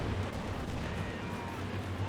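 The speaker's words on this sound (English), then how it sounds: "Could have been the Sherman tank firing." A Sherman tank cannon fires in the WWII strategy game Company of Heroes 2, heard as a dense, rumbling wash of battle booms and gunfire that stays steady throughout.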